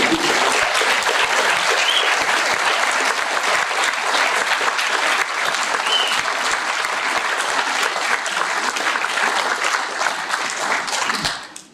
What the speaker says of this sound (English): how about a round of applause for Kelly?